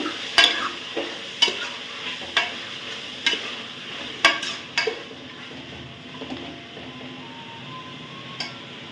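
Mutton pieces fry in a pan for a village-style mutton sambar, a steady sizzle broken by sharp clinks and scrapes as a spoon stirs the meat against the metal, about eight knocks over the stretch.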